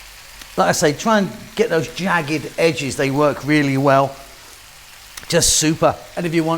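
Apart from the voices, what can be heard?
cabbage frying and sizzling in a pan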